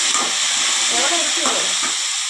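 Small shallots fry in a pan for mutton curry, giving a continuous close sizzle and hiss with stirring scrapes and no talking.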